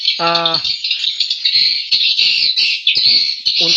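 Dense, continuous high-pitched chirping and twittering of a swiftlet roosting call played back inside a swiftlet house, loud and close, with a brief harmonic squawk near the start.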